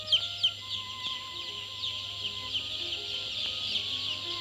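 Many newly hatched chicks on a laying-hen hatchery line peep continuously, a dense chorus of high chirps at moderate distance over a low steady machine hum and faint mechanical tones.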